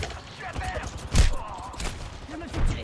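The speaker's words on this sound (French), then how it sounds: "Je me fais tirer dessus." Video game gunfire aimed at the player, with short shots and bursts popping in quick succession while someone talks over the action.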